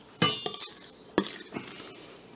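Flour sifted three times with salt, sugar and baking powder through a sifter, giving a few sharp scratchy scrapes and light metallic clinks, close and fairly quiet.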